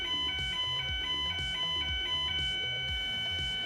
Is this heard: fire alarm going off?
yes